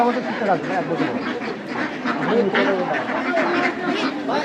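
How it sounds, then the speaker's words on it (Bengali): Ducks and geese quack amid steady crowd chatter at a busy village poultry market, their calls mixed in with nearby people talking. "এই দেখো সামনে কত হাঁস"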